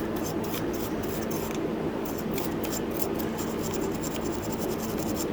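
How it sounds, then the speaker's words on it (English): A wire brush scrubs ethanol residue off the carburetor of a Troy-Bilt Squall 210 snow blower, giving dense, continuous scratchy rasping with quick back-and-forth strokes, close and fairly loud throughout. "We're gonna take our wire brush and just kind of paint that off of there."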